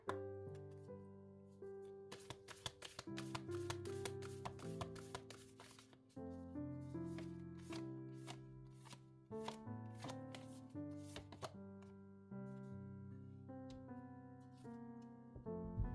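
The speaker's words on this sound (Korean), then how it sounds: "오라클 카드로 한 장 뽑아보도록 할게요" Oracle cards being shuffled and drawn, soft riffling flutters and crisp taps of card stock repeating close and quiet, with occasional sharper slaps as the deck is squared, no voices.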